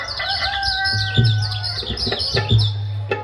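A voice mimics a rooster's crow, loud and close, at a Home Minister show event in Surgana, amid rapid high chirping of birds and a few thumps.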